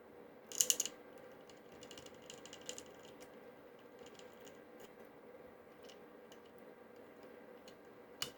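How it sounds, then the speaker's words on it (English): Screws are backed out of a bread maker's metal plate with a ratcheting tool, faint clicking and ticking with a brief louder metallic burst near the start, quiet and sparse afterward. "Remove the 7 screws holding the metal plate to the plastic base."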